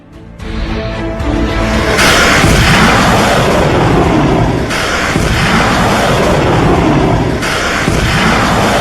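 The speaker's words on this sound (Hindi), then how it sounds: "ये क्रूज मिसाइल का हमला है इजराइल पर" A cruise missile strike on Israel erupts in a heavy, sustained roar of blast noise, loud and dense throughout, with renewed surges partway through and near the end.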